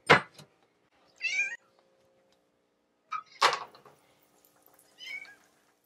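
A cat meows in a kitchen during breakfast cooking, giving three or four short, separate cries with quiet gaps between them, near and clear, over a faint background hum.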